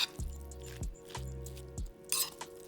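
Rice in a hot pot being stirred and mixed with toppings, the grains scraping over a crispy bottom. Soft, rhythmic scrapes and light clinks from the spoon, close and quiet.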